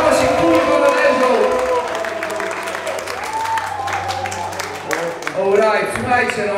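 Crowd at a Polish rap battle event erupts in applause and cheering, dense clapping building and swelling across several seconds, while a host keeps speaking loudly over the noise.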